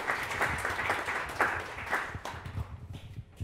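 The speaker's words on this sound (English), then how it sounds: "Let's give Montana Mills a round of applause" An audience at a printmaking panel applauds steadily, a dense wash of clapping that thins out toward the end.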